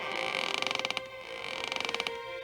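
A wooden front porch creaks under footsteps in two drawn-out bursts of rapid, rattling creaks, close and clear with no voices.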